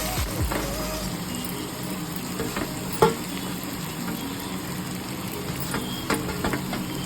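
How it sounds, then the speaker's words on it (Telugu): Peanut powder is stirred into a sizzling pan for a chapati-friendly dish, with a constant fry hiss and occasional spoon scrapes against the pan. "ఇప్పుడు కింద పల్లీల పొడి వేస్తామండి"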